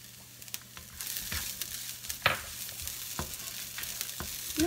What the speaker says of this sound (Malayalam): ഈ പച്ചമുളക് ഇഞ്ചി വെളുത്തുള്ളി ചെറിയ കഷ്ണങ്ങളാണ് എല്ലാം ചെറുതായിട്ട് അരിഞ്ഞത് നമുക്കിതിലേക്ക് ഇടാം